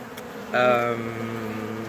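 Bees buzzing around a hive box, a close, droning hum that swells suddenly into a louder, higher whine for a moment and then settles back to a steady, fainter buzz.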